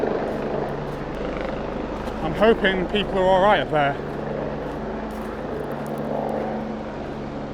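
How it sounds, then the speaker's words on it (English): A rescue helicopter's rotor drone hovers overhead continuously while a person speaks briefly over the noise. "It looks like it might be a rescue helicopter actually."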